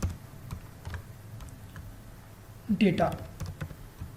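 Quick keystrokes on a computer keyboard while code is typed, light scattered taps followed by a brief burst, with someone speaking over part of the typing.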